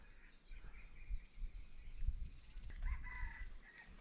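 Red junglefowl crows ring out a few times at a distance in Thailand. They are faint against low rumbling outdoor noise.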